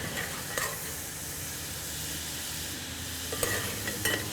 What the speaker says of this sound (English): I'm gonna remove our sausage from the skillet, but we're gonna leave that fat behind for other purposes. So just use a slotted spoon to scoop it all out of there